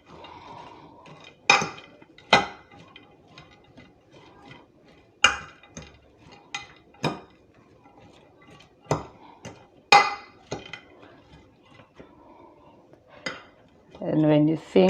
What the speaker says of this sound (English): now you can go ahead and mix your carrots, the raisins, the cabbage, the salt and sugar